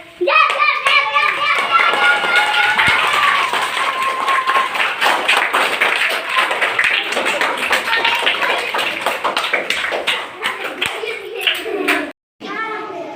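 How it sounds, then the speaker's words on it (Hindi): Schoolchildren clap together in a classroom, a dense run of sharp, rapid hand claps that is loud and close and lasts most of the time, then stops abruptly near the end, with children's voices mixed in. "अब नाव टोपी रख के एगो ताली हो जाए"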